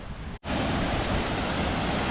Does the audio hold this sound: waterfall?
yes